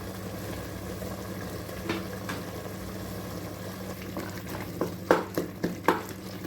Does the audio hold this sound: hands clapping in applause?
no